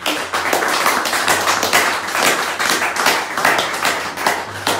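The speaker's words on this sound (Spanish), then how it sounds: "Otro fuerte aplauso." A congregation at a Santa Muerte spiritual service claps loudly and steadily throughout, dense overlapping handclaps filling the room close by.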